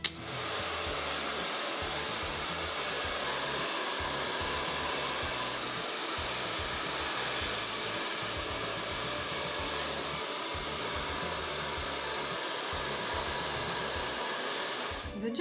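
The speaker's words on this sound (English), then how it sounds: "Now I'm gonna go ahead and blow dry my hair." A hair dryer blows steadily on hair at close range, a loud, even whooshing hum that runs unbroken throughout, with no one talking over it.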